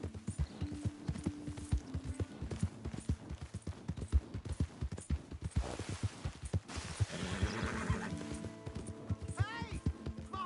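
Rhythmic clip-clop of horse hooves in Red Dead Redemption 2 throughout, with a horse whinny and overlapping voices, plus a brief crash midway.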